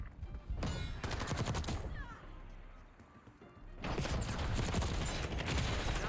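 Rapid full-auto AUG fire in Black Ops 6 rattles out in two dense, loud bursts with a quieter stretch of game noise between them.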